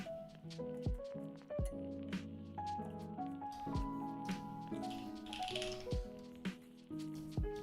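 Mechanical keyboard clacking with GMK Taro keycaps on a custom build, a steady run of dense, close keystrokes with uneven rhythm and brighter bottom-out clicks, heard alone.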